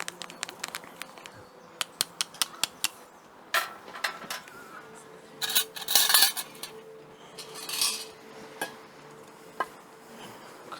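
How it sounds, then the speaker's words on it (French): Chopsticks clink and tap sharply against a bowl while tempura batter is mixed in a Japanese masterclass kitchen, with irregular bursts of quick strokes and a couple of longer swishing stirs, close and fairly quiet. "Mélanger baguette et puis bien mélanger comme ça."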